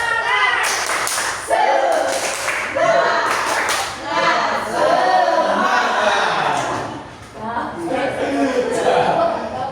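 A class of students does the rhythmic 'tepuk semangat' spirit clap in a school classroom, loud, patterned bursts of clapping with voices chanting and laughing throughout.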